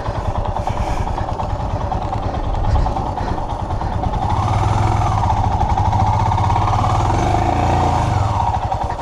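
A motorcycle engine runs continuously, close and loud, as the bike sits stuck and sinking in water on a trip through Latin America, a steady droning rumble with faint shifts in pitch.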